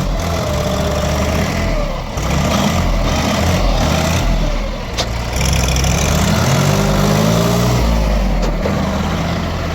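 A small tractor engine runs loudly and close, idling with a steady chug, then revs up briefly before settling back.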